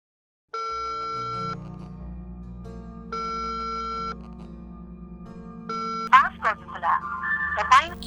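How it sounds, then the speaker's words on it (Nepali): Repeated electronic telephone ringback tones pulse in three long evenly spaced bursts over a low hum, then the call cuts off and a person starts speaking. "बरु प्रियालाई फोन गरेर भेट्न जाउँ कि क्या?"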